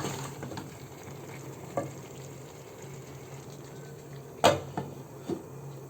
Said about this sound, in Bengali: এটাকে একটু ভালোভাবে নাড়া দিয়ে দেব মশলার সাথে